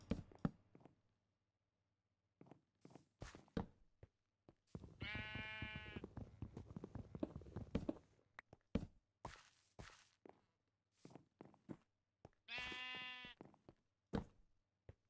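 Two drawn-out sheep bleats from Minecraft 1.17, each about two to three seconds long, with short blocky footstep and tapping sounds scattered around them and no talking.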